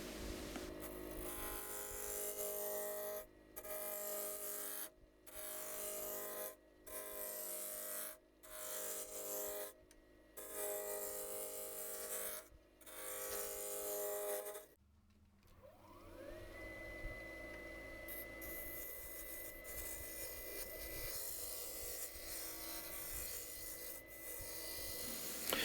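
A gouge rasps rhythmically against a spinning beech blank on a woodturning lathe, scraping in repeated bursts with short gaps as the blank is brought round, followed by the lathe's steady motor hum and whine.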